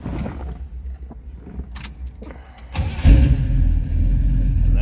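A 1969 Pontiac Firebird coupe's key jingles before the starter cranks and the engine catches, settling into a loud, steady idle close by.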